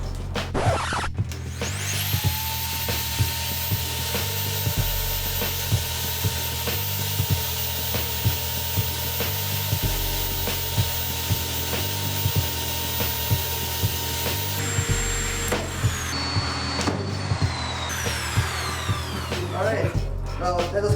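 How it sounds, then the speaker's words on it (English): A drill fitted with an attachment grinds against the glass of an OUKITEL WP6 rugged phone, a loud continuous motor whine with scraping, rubbing contact noise running for most of the stretch before spinning down. "I will attach this one to the drill now."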